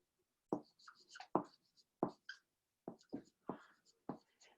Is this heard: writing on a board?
yes